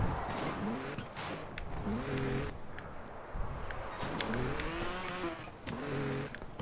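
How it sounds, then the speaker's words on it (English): A car driving past in the Trials video game, in a night-time city stage: a fairly close, continuous engine drone with rising and falling revs, heard alone with no talk. "so you can see that car go by"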